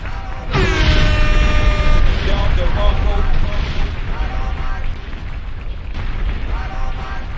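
Loud booming dynamite explosions rumble and echo one after another, with ringing, tonal layers over a heavy low roar that never fully dies away.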